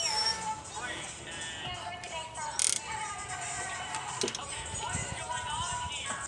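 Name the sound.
wrench loosening Mazda 3 sway bar end link nut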